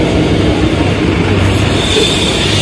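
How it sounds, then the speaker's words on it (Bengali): The Darjeeling toy train passes close by on the road with a loud, steady rumble of wheels and wagons, and a faint squeal high above. "একদিনে 14টা টয় ট্রেন"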